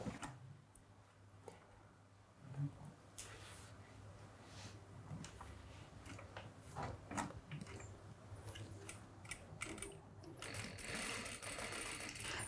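A sewing machine stitches a denim tote bag in quiet, close bursts of rapid ticking, with pauses and handling noises between runs and no talk.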